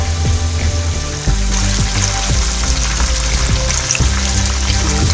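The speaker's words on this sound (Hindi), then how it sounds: "अब हम दूसरी साइड को भी 3 से 4 मिनट तक गोल्डन ब्राउन करेंगे" Fish pieces frying in a pan for a fish fry, a loud close sizzle with regular spatula scrapes and clinks, no voices.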